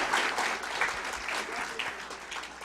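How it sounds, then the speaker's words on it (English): Light applause from a town hall meeting audience on toll roads in San Clemente, a steady patter of scattered hand claps filling the room for a few seconds without voices on top. "It's okay, light applause is understandable."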